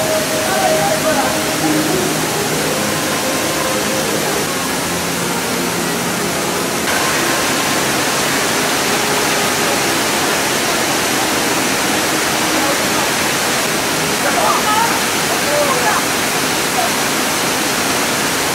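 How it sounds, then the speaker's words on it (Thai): Steady rushing water roars continuously from a waterfall in South Korea, dense and loud throughout, with faint indistinct voices occasionally underneath. "มีน้ำตก"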